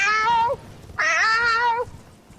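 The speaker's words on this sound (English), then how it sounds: "All his cats are freaking out." Cats yowl in two long, loud distressed meows, close and clear, separated by a brief pause, with no talk.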